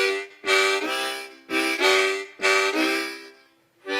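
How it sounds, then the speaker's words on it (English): Harmonica notes drawn too hard, giving a strained, buzzy tone: four sustained reedy chords in a slow rhythm with short gaps between them, played alone and close. "if you're having troubles and your harmonica sounds like this"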